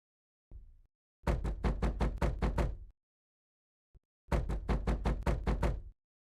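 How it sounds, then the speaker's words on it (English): Knocking sound effect for a trailer: two bursts of rapid, sharp knocks, each about seven hits in quick succession, loud and dry against silence, with a few faint single taps between. "Knock, knock."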